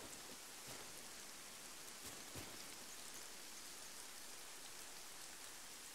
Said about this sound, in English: looks like the rain poured in all of a sudden